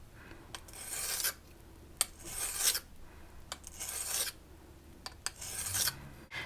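A flat hand stone slides along the edge of a figure skate blade in several separate rasping strokes, each a short, close gritty scrape with brief pauses between.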